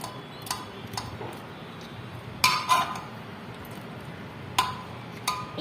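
A spoon stirs cooked kabuli chickpeas with tomato and bay leaf in a metal pot, giving sparse, crisp metallic clinks and taps at irregular intervals, close by over a quiet background.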